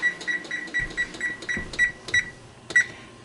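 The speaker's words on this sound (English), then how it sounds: "Set the timer." Regular electronic oven timer beeps while ginger star cutout cookies bake, a steady series of short, moderately loud bleeps repeating about every third of a second in a quiet kitchen.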